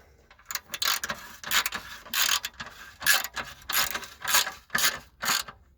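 A socket ratchet tightens a bolt on a car exhaust heat shield, giving a close series of short, sharp clicking bursts in an uneven rhythm with brief pauses between strokes.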